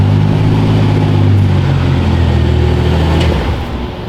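A BMW N54 car fitted with a swapped 8HP50 automatic transmission drives along, its steady mid-pitched engine drone holding loud and close before easing off near the end.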